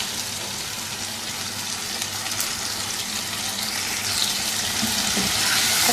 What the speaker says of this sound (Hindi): चिकन को अब 3-4 मिनट अच्छी तरह से भून देंगे